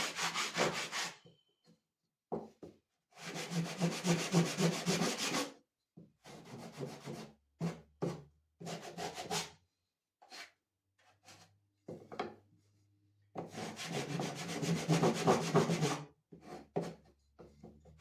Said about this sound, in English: So take your sanding block and start sanding.